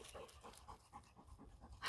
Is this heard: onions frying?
no